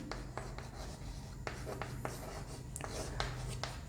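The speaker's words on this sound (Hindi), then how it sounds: "अच्छा हिंदी में भी इनको ऐसे लिखेंगे" A pen writes by hand on a board or paper during a biology lesson, a faint series of quick scratchy strokes and taps in irregular bursts, with no talking over it.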